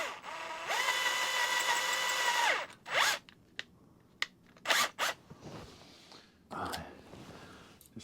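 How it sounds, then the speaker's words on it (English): A power drill bores 6.5 mm holes in a part for a Royal Enfield bobber motorcycle: a loud, steady whine for about two seconds, then several shorter bursts as the bit starts and stops. "so just drill that out"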